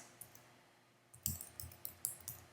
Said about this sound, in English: I'm just going to type in the landlord's name,